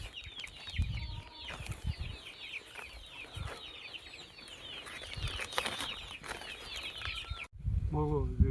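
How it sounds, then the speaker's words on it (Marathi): A crowd of baby chickens under a tree on a farm chirps continuously and close by in quick high peeps, with low rumbling handling noise and a faint voice now and then. "ह्याच्यात कोंबड्याची पिल्ली आहे"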